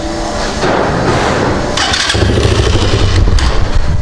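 A KaYo Chinese quad's engine cranks and fires up, then settles into a loud, close, steady rumbling run.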